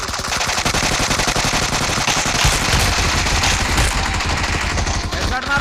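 Rapid automatic gunfire from BGMI (Battlegrounds Mobile India) gameplay, loud and continuous, with dense bursts of shots rattling through the whole stretch and faint voices mixed in.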